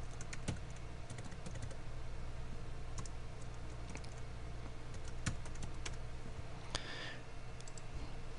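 Keys tapped on a computer keyboard, scattered soft clicks over a steady low hum of background noise, sounding quiet and somewhat distant.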